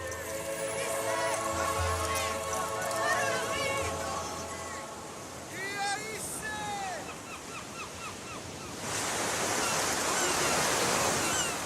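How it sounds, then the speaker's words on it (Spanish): Huge ocean waves crash and roar as a steady broadband surf, swelling louder near the end, while someone speaks over it in Spanish. "Quedan fascinados por las inmensas olas, por ese sonido que les hace estremecer."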